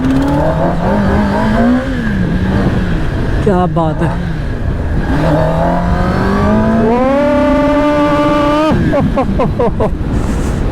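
A Kawasaki ZX-10R superbike accelerating hard through repeated gear changes, its engine note climbing in rising sweeps with brief drops between shifts, loud and close, while a man briefly exclaims over it.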